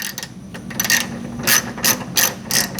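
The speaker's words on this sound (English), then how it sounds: "that exposes a 10mm bolt that we're going to remove" A hand ratchet loosening a 10mm bolt under a rubber flap on the hood of a 2025 Toyota 4Runner, with loud, close, rapid clicking bursts repeating in short strokes.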